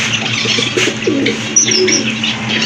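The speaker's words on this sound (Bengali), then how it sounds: "এটা হচ্ছে একটা দামাচিন কবুতর, ব্ল্যাক চেকের ভিতরে" A black-check Damachin pigeon coos softly several times in low, throaty murmurs, close by, with faint chirps and background noise around it.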